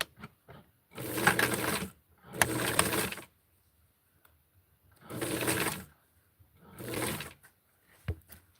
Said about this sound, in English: I'm going to be sewing it at an angle